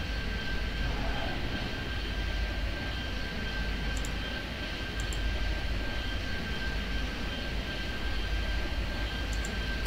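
Small propeller planes droning steadily in the airport game Airport Madness 3D at London City, a constant broadband engine hum with a faint tonal whine, unbroken and with no voices.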